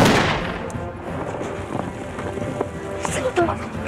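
Gunfire cracks out during a wartime ambush on Japanese troops, a few sharp shots standing out over a rough, noisy background, with voices around them.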